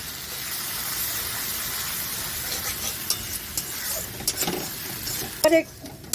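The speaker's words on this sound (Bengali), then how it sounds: "এবার আমি আদা রসুনের যে পেস্টটা আছে পুরোটাই দিয়ে দেবো," Ginger-garlic paste sizzles in a pan with tomato for a koi fish and cabbage curry, a steady close hiss with soft stirring scrapes and a few louder clinks near the end.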